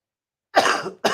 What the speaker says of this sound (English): I think it's when I talk a lot, Mm. the cough comes back.